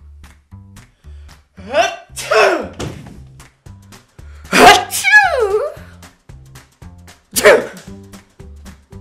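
A person sneezes a few times amid sparse speech-like bursts and low thumping, each sneeze a sharp, loud burst standing out against a quiet background.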